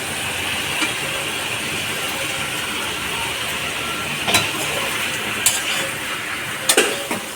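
Boiled potatoes and pointed gourd go into a pan of hot oil for a vegetable curry, giving a steady soft sizzle with a few sharp clinks of a utensil against the pan.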